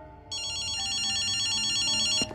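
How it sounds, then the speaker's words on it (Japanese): A telephone rings loudly in the video game Ghostwire: Tokyo, starting abruptly with a rapid, continuous electronic bell trill over quiet ambience and then cutting off near the end. "電話だぜ。"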